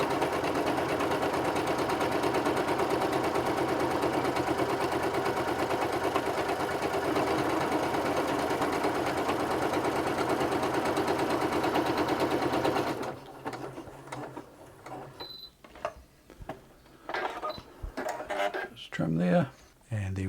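A Singer Quantum Stylist 9960 sewing machine stitches a keyhole buttonhole with a loud, steady, rapid mechanical chatter for about thirteen seconds. It then stops, leaving scattered clicks and handling noises.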